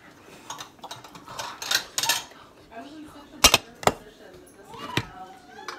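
Ceramic bowls clatter and clink in a few sharp knocks, with quieter shuffling between them and soft talk nearby.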